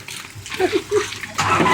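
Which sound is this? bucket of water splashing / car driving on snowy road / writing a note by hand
bucket of water splashing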